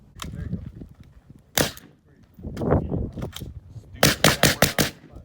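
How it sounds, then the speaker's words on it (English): Sharp muffled shots from a suppressed AR-15 rifle: one at first, another later, then a rapid string of five or six evenly spaced cracks, with low background rumble between. "how a suppressed rifle sounds"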